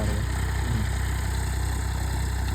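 Tractor engine running steadily in a village, a constant close low idling drone with no breaks.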